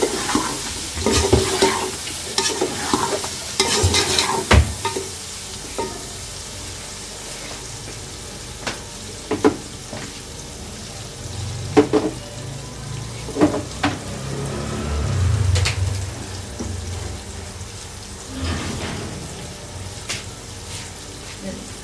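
Rice stir-fried in a pan with chicken powder and a chicken cube for vegetable fried rice: a soft sizzle under scattered scraping knocks of a spatula, with a person talking over parts of it.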